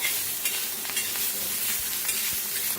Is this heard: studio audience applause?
no